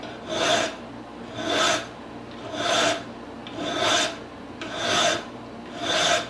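A hand file rasps across the steel top of a 1911 9mm pistol slide, cutting angled serrations: six steady, even strokes about a second apart, close and clear with no talking.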